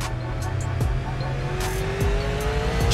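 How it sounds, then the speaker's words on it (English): Super Late Model race car in iRacing at Martinsville Speedway, a steady loud engine drone with several quick pitch drops as it downshifts into the corner, plus faint tire noise, heard alone. "Listen to his downshift right here."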